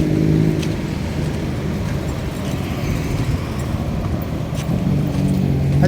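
Steady highway traffic in Davao City heard while walking beside the road, a continuous loud roar of passing cars and engines, close and unbroken, with no talking over it.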